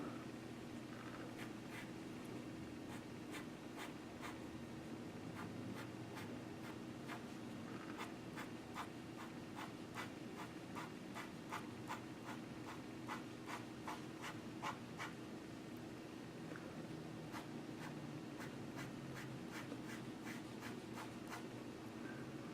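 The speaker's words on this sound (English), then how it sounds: "now we're going to work with a bit of a darker brown pencil" Dark brown pencil drawing a realistic lion mane on paper: soft, continuous scratchy rubbing with rapid repeated short strokes in bursts, close and quiet, without any talking.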